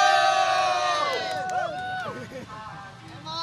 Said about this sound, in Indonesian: tepuk tangan untuk Ajis Doaibo